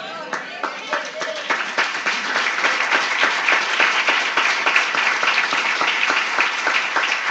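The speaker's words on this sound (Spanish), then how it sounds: "Yo fui el primero en aplaudir porque me emociono" A church congregation applauds at a Spanish-language service, a steady dense wash of many hands clapping that keeps up evenly throughout.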